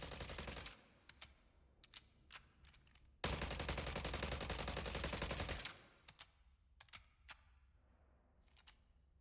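The Whisper, an MP5-style submachine gun in the shooter game Spectre Divide, fires one sustained automatic burst of about two seconds. Scattered single sharp clicks and shots come before and after it.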